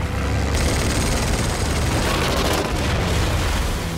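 Aircraft attack on Soviet troops partly still in the water during a World War II sniper film, heard as a continuous loud roar of engines and explosions with a sharp blast surge near the start.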